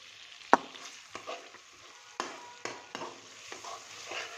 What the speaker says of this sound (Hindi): इसको 1 से 2 बार इसमें चम्मच हम अच्छे से हिलाएंगे।